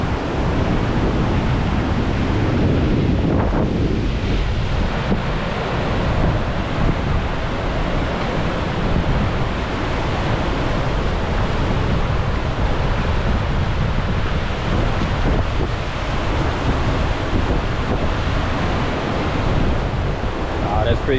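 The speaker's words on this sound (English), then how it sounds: "Had to get some up close and personal footage of these rapids right here on the river." Whitewater rapids on a river in Columbus, Georgia rush in a loud, steady roar close to the microphone, with wind buffeting throughout and no speech.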